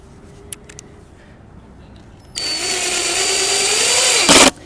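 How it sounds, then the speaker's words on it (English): An impact driver drives a screw into a white oak raised bed, a loud close whine that rises steadily for about two seconds and ends in a brief burst of hammering impacts. "white oak is really a hard wood, so it really is going to take a pretty powerful drill. So we usually use an impact driver."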